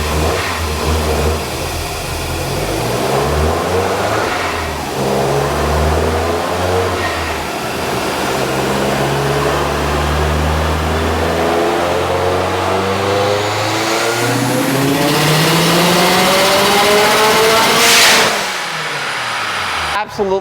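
A Subaru EJ engine tuned to 525 hp on E85 in a hatchback revs hard and close, climbing through sustained high-rpm sweeps with a loud, rising pitch and a sharp blip near the end.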